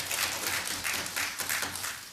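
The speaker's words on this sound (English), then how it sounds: "let's give her another round of applause" Members of the Pan-African Parliament applaud after a presentation, a brief burst of dense clapping that swells and dips in waves through the chamber.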